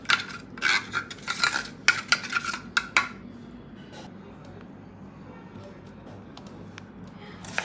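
A spoon stirs and mixes purée in a metal pot in a home kitchen, making quick scraping clinks against the sides for the first few seconds before it drops to a quiet hum.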